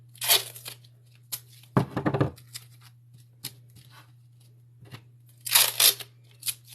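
Masking tape is pulled and torn in several quick, close ripping bursts separated by quiet pauses, over a low steady hum.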